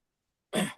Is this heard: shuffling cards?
no